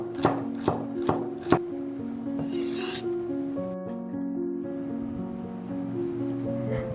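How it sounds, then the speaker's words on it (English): A knife slices a celery rib into pieces for a roasting pan: four crisp, close chops in quick succession, then a brief rustle, with a soft melodic tone running underneath. "Cut the rib of celery into slices for the roasting pan."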